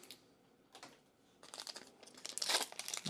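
Crinkling and tearing of a Pokémon TCG White Flare booster pack wrapper being opened, close-up rustling that grows busier and louder with sharp crackly bursts.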